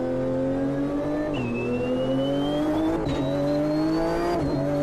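A race car engine in the video game Automobilista 2 screams at high revs, pitch climbing through gears with brief drops at each shift, loud and continuous.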